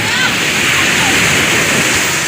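Seawater sloshing and washing at a seaside during an expedition, a loud, steady rushing surge that fills the whole stretch without a break.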